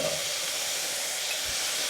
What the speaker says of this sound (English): Then we'll add our onions.